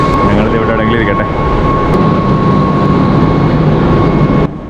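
A Mumbai local train rides along with a loud, constant rumble and rattle from inside the carriage, a faint tonal whine running through the din.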